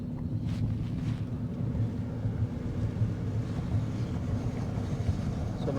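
Wind roars steadily through an open car window while driving, a continuous low buffeting rumble close to the microphone with no talking.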